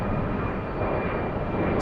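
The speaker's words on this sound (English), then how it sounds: "It's an Embraer 190 going to Amsterdam." An Embraer 190 airliner flies at Frankfurt Airport, giving a loud, steady roar of jet engine noise that holds evenly for the whole short stretch, close and unbroken.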